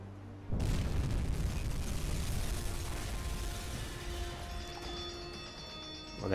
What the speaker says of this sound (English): there we go, another good strike with the torpedo